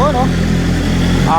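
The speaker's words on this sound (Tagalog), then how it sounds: "Lalabas na yung motor dahil tapos na." A motorcycle leaves a repair shop after an oil change, its engine idling and revving close by, with voices talking over it throughout.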